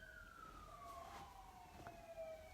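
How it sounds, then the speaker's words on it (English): Emergency vehicle siren on a street in Edenton, a wailing tone sweeping steadily downward over about two and a half seconds, moderately distant and faint, with no talk. "A siren."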